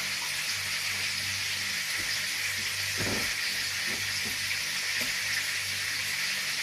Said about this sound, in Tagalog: Nagpiprito pala ako ng isda.